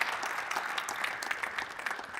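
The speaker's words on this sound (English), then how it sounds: "And give Dan a round of applause" A faint, short burst of audience applause at a conference talk on domain-driven design, soft and distant, lasting a couple of seconds.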